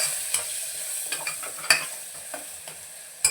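A spoon stirs a spice mixture of Kashmiri chili powder and garam masala in a pan for a spinach dish, making quiet sizzling broken by several sharp scrapes and taps against the pan, close and with no talking.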